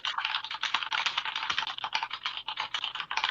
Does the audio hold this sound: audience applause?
no